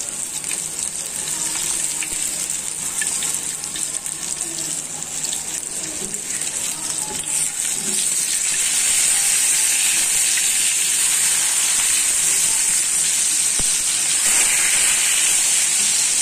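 Pieces of snakehead fish frying in hot oil on a home stove, a steady broadband sizzle running throughout at close range, swelling slightly louder in the second half.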